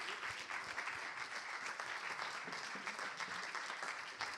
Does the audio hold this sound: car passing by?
no